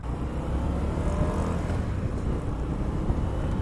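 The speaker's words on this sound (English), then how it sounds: "bike with a V-twin engine, a real V-twin engine, not an L-twin" Indian FTR 1200 S race replica motorcycle with a V-twin engine running while riding, a steady, loud, continuous low rumble throughout with no talk.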